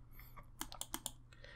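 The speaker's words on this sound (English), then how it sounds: "as soon as I start typing" Faint typing on a computer keyboard in a quiet room, a quick run of light clicks and taps clustered in the middle, with a low steady hum underneath.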